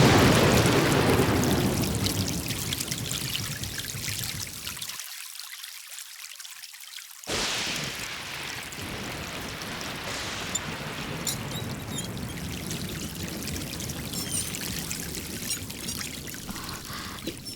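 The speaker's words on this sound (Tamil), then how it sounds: "எதுக்காக இப்படி மழையில நனைஞ்சீங்க?" Heavy rain pours down in a loud, steady rush. The rain cuts out for about two seconds, then resumes just as strongly and continues to the end.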